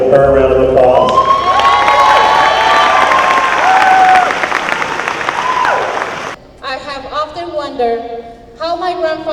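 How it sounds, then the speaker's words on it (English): An audience at a community gathering claps and cheers loudly, with voices whooping over the applause for about six seconds. Then the noise drops and a person speaks clearly. "Can we give her a round of applause?"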